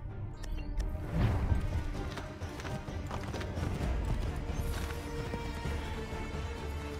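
Horse hooves clatter at a steady pace through Assassin's Creed III Remastered gameplay, a dense galloping rhythm mixed with game background noise and occasional crashes.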